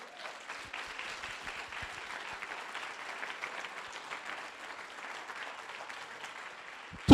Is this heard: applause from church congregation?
yes